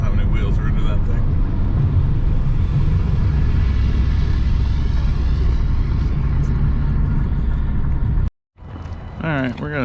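A heavy multi-wheeled gravel truck drives along a South Dakota road, a loud, steady low rumble that holds for about eight seconds before cutting off abruptly, with a voice talking briefly afterward.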